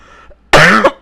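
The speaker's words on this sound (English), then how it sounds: "I'll try to mute when I cough." A single harsh, throaty cough, loud and close, erupts after a brief faint sound and cuts off quickly.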